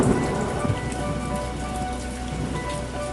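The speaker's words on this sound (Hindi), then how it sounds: "और वो आवाज़ था बारिश का।" Steady rain falls on the Kedarnath trek, a dense, even patter of drops hitting surfaces close by, continuous and fairly loud with no voices.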